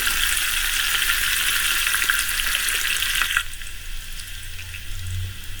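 Cumin seeds and chopped green chillies sizzling in hot oil for dal curry, a bright steady crackle that drops abruptly to a quieter low hiss partway through; no talking.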